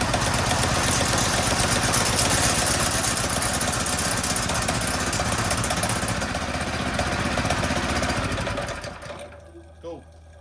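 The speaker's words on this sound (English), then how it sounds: "we're actually going to test fire this motor before we ever put a chain on it" A small chainless motor revving at high speed on a test fire, loud buzzing whine steady for about nine seconds, then cutting off and winding down to quiet.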